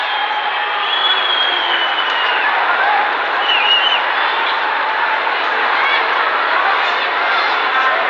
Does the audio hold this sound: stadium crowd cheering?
yes